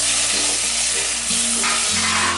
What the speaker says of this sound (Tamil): வெங்காயம் பொன்னிறமாக நல்லா வதங்கிடுச்சுங்க.